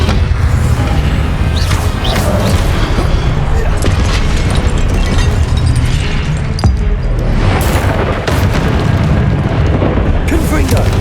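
Repeated Confringo fire-blast spells exploding in the video game Hogwarts Legacy, loud continuous booming crashes and bursts layered over dense combat noise, with a voice calling out spells.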